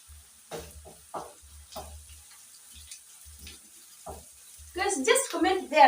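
Chicken gizzards get stirred in a pan, sizzling and scraping that builds louder near the end, with a voice talking softly over the earlier part.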